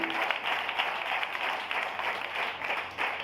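A church congregation applauding the Lord, a steady wash of many hands clapping at moderate distance, even and sustained throughout.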